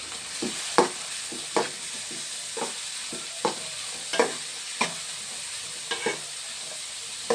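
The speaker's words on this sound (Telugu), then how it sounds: "ఇంకా ఉల్లిపాయ ముక్కలు వేసేస్తున్నాయండి. చేపల కూరలోకి రుబ్బుకోవాలి అండి." Onion pieces sizzling in hot oil for a fish curry, a steady frying hiss punctuated by regular scrapes and clacks of stirring, close up with no talk.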